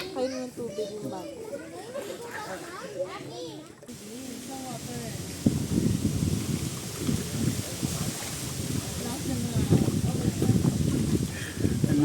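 Strong wind buffets the microphone at a family campsite in Mendez, Cavite, a steady broadband roar that thickens midway, with children's voices and chatter running throughout.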